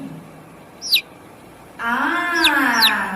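A baby chick peeps in short, high, falling chirps: one alone early on, then two more over a steady voice talking.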